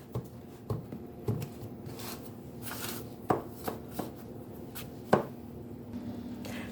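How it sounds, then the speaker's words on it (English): Fork pricking a shortbread dough base in a baking tin, a series of faint, sparse taps and scrapes at an uneven pace against quiet room noise. "I'm going to prick it over with a fork"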